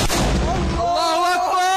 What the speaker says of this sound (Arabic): لواء أحرار الزاوية يقوم بالقصف بمدفعية الهاون على مباني الجيش والكازية العسكرية في منطقة الراموسة